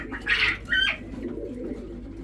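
Quails kept in a home hutch give two short, clear calls close by, each with a bright whistling quality, over a steady low background hum.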